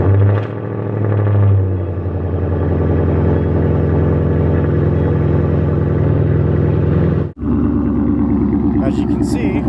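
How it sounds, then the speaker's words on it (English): A 2016 Ford Mustang GT with a Corsa X-pipe and muffler-delete, near straight-pipe exhaust idles after a cold start: a loud, steady, deep rumble close by that briefly cuts out near the end, then settles back into idle. "my exhaust setup is I have the Corsa Double X pipe and muffler delete, so I guess you can say technically straight pipe"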